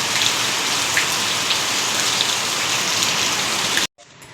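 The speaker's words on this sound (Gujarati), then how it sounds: "રેડા પછી રેડા એક ધારો ચાલુ છે દસ વાગ્યાનો" Steady, continuous rain falling on surfaces around farm fields, a dense even hiss of drops that stays loud and unbroken before cutting off abruptly near the end, with no voices.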